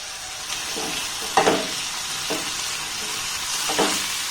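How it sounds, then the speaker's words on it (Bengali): Onion with ginger-garlic paste is stirred in a pan over a low flame, giving a soft, steady sizzle broken by three or four close spoon scrapes. "পেঁয়াজটাকে একটু নাড়াচাড়া করে নেব"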